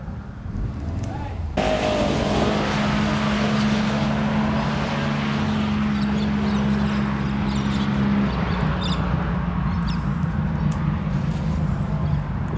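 A Bluebird drag car launches off the line at Heathcote Park during test and tune, a sudden loud engine roar that holds steady for several seconds before easing, with a commentator talking throughout.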